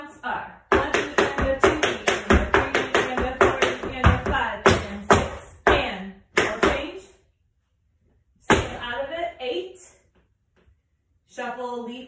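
Intermediate-to-advanced tap dance steps to a song: rapid shuffles, heel drops and toe knocks in quick rhythmic bursts of crisp, close taps, separated by short pauses and a few sparse later strikes.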